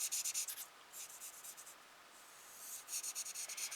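Felt-tip marker scratching across paper while coloring, in faint, quick rhythmic bursts of back-and-forth strokes separated by short pauses, close up and quiet.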